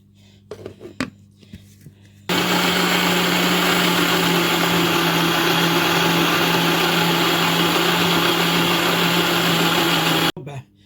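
An electric mixer beats cake batter with sugar for a traditional orange-flavoured corn cake, a loud steady whir that starts abruptly and runs continuously for about eight seconds before cutting off, with brief clatter before it.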